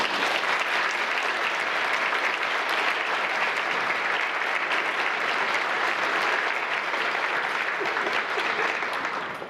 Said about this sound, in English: please help me give everyone a round of applause